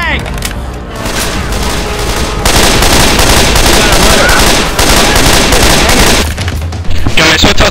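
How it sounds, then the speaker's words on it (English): Sustained, loud gunfire from several weapons at once, all aimed at a Tank in Left 4 Dead 2. The rapid shots run together into a dense, continuous barrage that fills nearly the whole stretch, ending in a brief lull and a final burst. "Everyone shoot the tank!"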